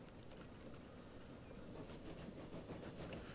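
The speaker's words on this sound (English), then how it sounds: "He has to wait till this train departs and passes this particular point, then he can pass." A train departs and rolls past at a distance, a faint, steady rumble with light rhythmic clatter that gradually grows a little stronger.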